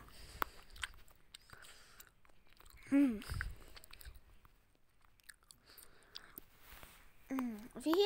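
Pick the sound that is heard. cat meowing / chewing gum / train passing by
chewing gum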